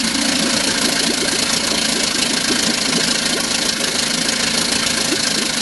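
A 1956 Scott-Atwater 7.5 hp outboard motor idles steadily, a close, even, loud putter with a fine rhythmic knock that holds unchanged throughout.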